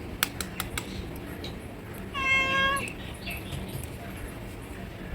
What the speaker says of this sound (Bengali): বিড়ালটা অলরেডি খাওয়ার জন্য এখন ম্যাও ম্যাও শুরু করে দিয়েছে